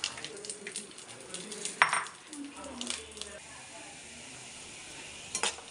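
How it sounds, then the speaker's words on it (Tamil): Garlic fries in hot oil in a pan after dried red chillies, a soft steady sizzle broken by a few close metallic clinks and scrapes of a spoon against the vessel. "இதிலே பூண்டு வறுத்து எடுத்துருவோம்"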